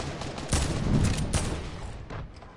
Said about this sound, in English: Guy shooting.